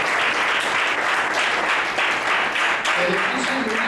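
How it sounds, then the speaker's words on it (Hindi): A church congregation applauds loudly and steadily, a dense wash of many hands clapping close by that fills the whole stretch without a break. "उस प्रभु के लिए जोरदार ताली बजाइए।"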